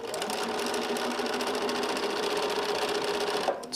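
A sewing machine chain-pieces small quilt fabric pieces in one continuous, close, rapid whir that runs steadily before stopping near the end.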